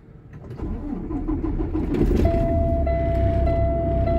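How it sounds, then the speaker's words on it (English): A 2018 Peterbilt truck engine cranks and fires up close by. It then settles into a steady, rumbling idle with a thin, high whine over it. "So we're going to start the truck up."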